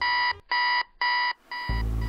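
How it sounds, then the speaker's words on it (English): A morning alarm clock rings loud and close in three even electronic beeping bursts, then a fourth starts as a low thump and rustle cut in, like the alarm being shut off. "My alarm just woke me up."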